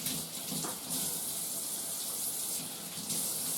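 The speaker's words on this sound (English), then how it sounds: "let me wash my hands real quick." Running water from a kitchen tap as hands are washed under it, a steady, close broadband rush that continues without a break and with no talking.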